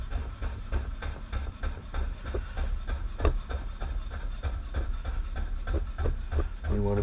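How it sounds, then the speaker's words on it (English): A knife slices lemon peel strips very thinly on a cutting board, making rapid, regular close taps and rubbing scrapes that continue steadily throughout. "we're going to take all of these little strips and we're going to very, very thinly slice them"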